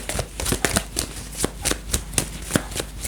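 Tarot cards are shuffled by hand in quick repeated riffling bursts with short pauses between them, close and crisp.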